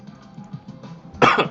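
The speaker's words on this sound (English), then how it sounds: "Ooh, that one's gonna make me cough." A person coughs once, a sharp loud burst near the end, after a quiet stretch of low breathy sounds and faint throat noise.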